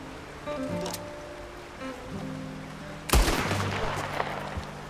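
A single gunshot rings out in Red Dead Redemption 2, a sharp loud crack with a lingering echoing tail, following a stretch of quieter ambient game sounds.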